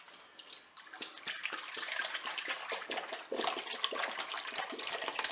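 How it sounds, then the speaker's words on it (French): Milk poured into a salad bowl while making plain yogurt, a steady close liquid splashing and trickling stream that builds and continues throughout with no talking. "Je vais verser le lait dans un saladier."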